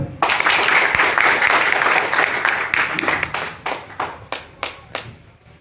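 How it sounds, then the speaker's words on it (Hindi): An audience at a direct-selling business presentation breaks into loud, dense clapping that thins toward the end into a few separate, spaced claps. "तालियां बजा दो"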